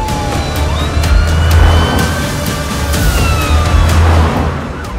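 A cartoon ambulance siren wails loudly up close, its rising and falling tones sweeping repeatedly over a rumbling vehicle engine.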